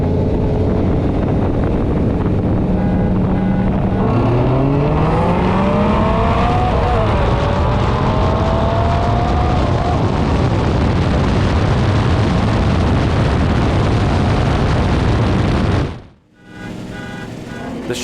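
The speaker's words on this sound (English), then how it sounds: "once the Viper's roaring V10 builds some momentum, it's able to slowly pull away from its fellow snake" A Dodge Viper with an 8-liter V10 races a Shelby, their engines roaring loud and continuous while the pitch climbs through the gears, before a sudden brief dip near the end.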